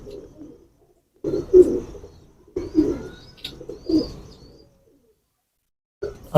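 Female pigeon of a racing or flying breed cooing close by: three or four throaty low coo phrases in separate bursts with silent gaps between, and a short final call starting at the end.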